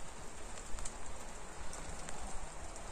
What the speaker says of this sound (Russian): Дождь льет, надо еще водосточку делать.